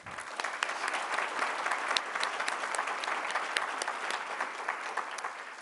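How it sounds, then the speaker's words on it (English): Steady applause from a sizable crowd at a police luncheon, dense clapping sustained throughout without a break. "let's have another round of applause"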